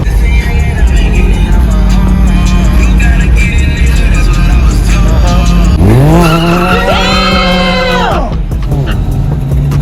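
Tires squeal as a car spins its wheels at the Woodward Dream Cruise car show, a rising, screeching whine over a loud, steady engine roar and crowd noise, close and dominant through the second half.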